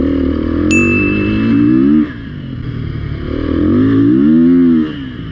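A 2019 Beta 430 motorcycle is ridden and revved, its engine rising and falling in two strong surges, close and loud, with a brief metallic ding near the start.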